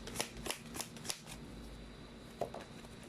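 Tarot cards are shuffled in a quick series of crisp riffling bursts, close and quiet, with short pauses between the flurries.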